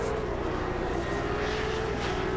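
Race car engines drone steadily at a Speed World Challenge GT round in San Juan, Puerto Rico, a dense continuous roar at moderate distance with no clear gear changes audible.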